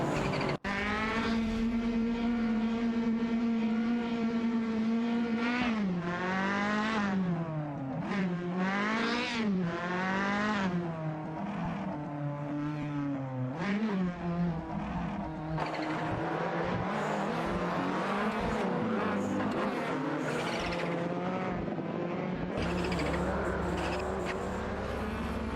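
Race cars in an AI racing video game, a continuous loud engine whine rising and falling through gear shifts and revs as cars jostle for position, with faint tyre squeal and no voices.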